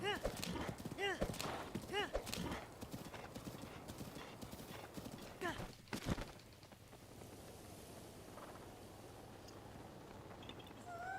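A horse gallops in The Legend of Zelda: Breath of the Wild, its hooves pounding a loud, fast clip-clop with a whinny early on. It eases to softer, sparser steps in the second half.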